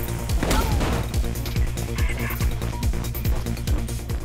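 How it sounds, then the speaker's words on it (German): Bursts of gunfire in the first-person parkour video game Mirror's Edge, sharp cracks repeating at an uneven rhythm among dense game music and effects, moderately loud and slightly distant. "Ich höre Schüsse"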